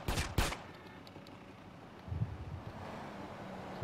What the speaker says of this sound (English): You're shooting me, man.